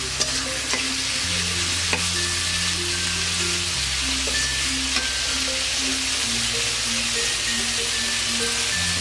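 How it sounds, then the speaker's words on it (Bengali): Chicken meat for noodles sizzles and fries in a pan while being stirred, a continuous close hiss with occasional utensil clicks and a faint steady tonal hum underneath, no talking. "তারপর মাংসটা আমি ভালো করে কষিয়ে নেব"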